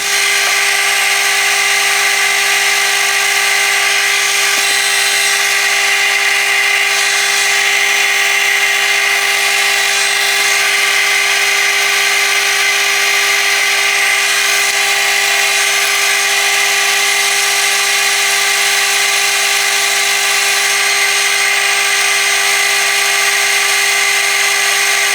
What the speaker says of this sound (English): I've got to drill a 3mm hole